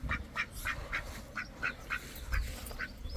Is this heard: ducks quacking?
yes